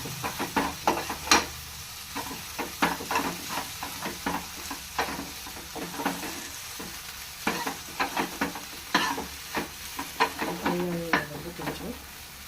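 Vegetables, okra with tomato pieces, frying in a home pan, a steady sizzle broken by repeated scrapes and clinks of stirring, close and fairly loud, with a voice heard briefly in the background.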